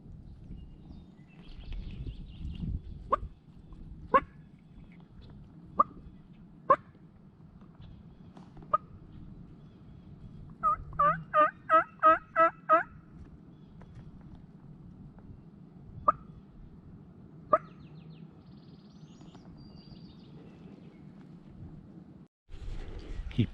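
Wild turkey in a Kansas spring field, heard as a quick rattling run of gobbles at moderate distance, with scattered sharp clicks and knocks before and after against a quiet outdoor background.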